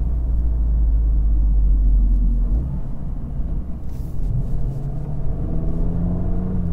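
Inside a 2023 Volkswagen Polo GTI on the road, a loud, deep engine rumble and road drone fill the cabin, and the tone drops and shifts partway through as the car downshifts around 30 km/h.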